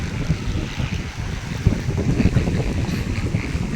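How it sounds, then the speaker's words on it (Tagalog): Strong wind roars and buffets steadily against the microphone, a loud, rumbling, unbroken rush with no voices. "Sobrang lakas ang hangin."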